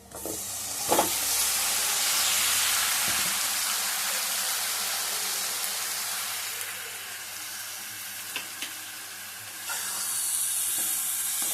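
Country chicken pieces hit a hot pot and sizzle loudly, a steady broad hiss of frying and steam lasting throughout, with a few sharp pops and clinks of stirring, close up and without talk.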